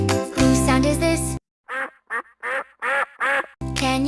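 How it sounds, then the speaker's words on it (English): A duck quacks in a run of five or six short nasal calls with brief gaps between them, loud and close, framed by music before and after. "Quack, quack, quack, quack, quack, quack, quack. This is a duck."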